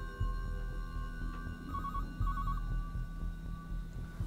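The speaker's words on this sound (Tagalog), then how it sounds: "Answer the phone." A telephone rings twice in an indoor scene, two short electronic trilling bursts, moderately quiet and a little distant, heard over a low hum with no talking.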